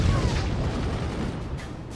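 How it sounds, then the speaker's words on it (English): Cannon shots boom in the tower-building video game Forts, a dense run of low thuds and blasts filling two seconds of continuous battle noise. "We got two little tiny bitty, itty bitty shots going."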